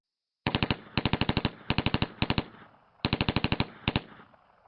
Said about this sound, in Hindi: ली उन पर मशीन गन से फायर करता है।